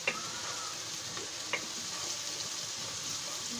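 Two small bay leaves drop into hot oil for a chicken curry, giving a faint, steady sizzle and frying hiss with a few light ticks and clinks close by.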